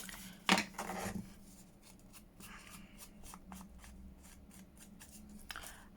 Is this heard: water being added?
no